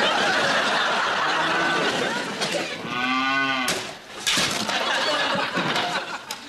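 A cow moos loudly with a long, drawn-out bellow in the middle, surrounded by noisy, busy background sound.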